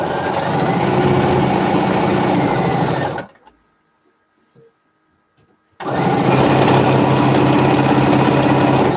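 A sewing machine runs a steady basting stitch on a soft flannel burrito-style piece, loud and close, humming continuously for a few seconds, stopping briefly into near silence, then starting up again.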